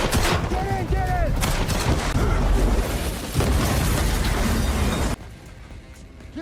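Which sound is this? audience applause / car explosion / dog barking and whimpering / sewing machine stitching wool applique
car explosion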